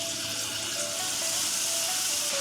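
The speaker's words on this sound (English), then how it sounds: "Listen to the sizzle." Chicken pieces in marinade laid on a hot grill over a high flame give a loud, steady hiss of sizzling that fills the clip without a break and with no talking.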